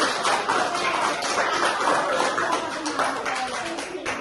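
A primary school class claps for classmates after a dance performance, a busy scatter of children's hand claps filling the room with some voices mixed in.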